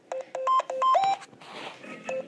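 Phone keypad tones beep in a quick, uneven run of about six or seven short pitched presses, followed by a breathy pause and one more tone. The beeps are clear and near.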